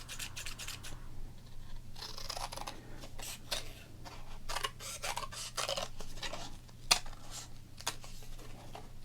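Scissors snip through minor league baseball cards in a close, crisp ASMR session, with a steady run of sharp cuts and papery rubs against a low constant hum, and one louder snip near the end.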